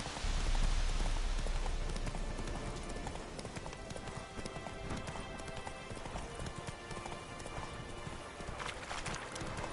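Horse hooves clip-clop in a quick, steady rhythm as a rider gallops in The Witcher 3, with rain pattering underneath and an occasional whinny, fairly close and with no talking.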